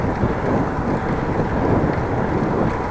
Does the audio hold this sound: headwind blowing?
yes